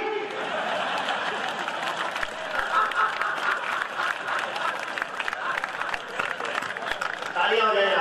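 An audience at a Hindi comedy poetry gathering (hasya kavi sammelan) breaks into sustained applause, a dense crowd of clapping with some sharp individual claps and a brief swell near the end.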